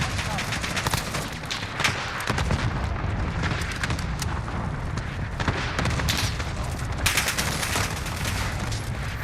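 Cluster strike explosions in Call of Duty Modern Warfare pound in dense, overlapping booms with rattling gunfire, continuous and loud throughout, with voices talking underneath.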